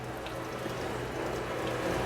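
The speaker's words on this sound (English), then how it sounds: "And it just drains on the floor and eventually makes its way into the floor drain." Water drains steadily from an open pool heater valve onto a concrete floor, a continuous close splashing trickle with no voices.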